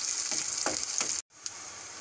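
Chopped green chilli frying with onions for Maggi, a soft continuous sizzle with a few stirring scrapes, cut off by a brief silence before the hiss resumes.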